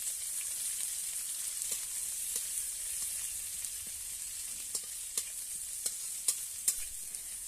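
Chopped onion sizzling in a hot pan, a bright steady frying hiss with a series of sharp scraping stirs that grow more frequent and louder toward the end, close up, no voices.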